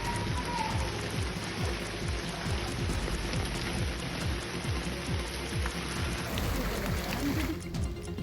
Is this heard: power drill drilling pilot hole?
no